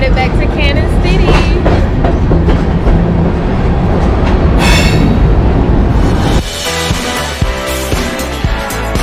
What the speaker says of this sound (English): this is the end of our Royal Gorge train ride